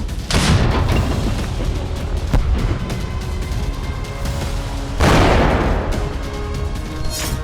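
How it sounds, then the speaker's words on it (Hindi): Heavy artillery shelling in Sumy, Ukraine, rolls on as a loud, continuous barrage of deep booms and rumbling blasts, with an especially powerful burst partway through. "सुमी में आर्टिलरी से फिर जबरदस्त गोलाबारी की गई है।"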